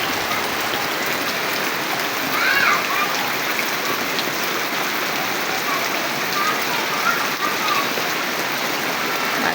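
Heavy rain pours down during a storm, a dense, constant roar of drops hitting surfaces that stays loud and unbroken throughout.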